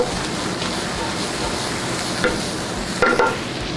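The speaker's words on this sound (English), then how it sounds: "I'm trying to break up my little onions so they all cook nice and perfect" Sliced onions and garlic stirred as they fry in a pan, with a continuous close sizzle broken by a few louder scraping bursts from the utensil.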